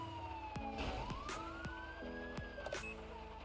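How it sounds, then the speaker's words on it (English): A police siren in GTA V with the LSPDFR mod wails up and down in a clear, steady sweep, loud and close over a low engine hum, with no talking. "you need to have your lights and sirens on to come in"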